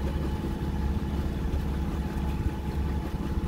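A Catalina 42 sailboat's engine runs steadily while the boat motors out, giving a continuous, close, low rumbling drone with no pauses and no voices.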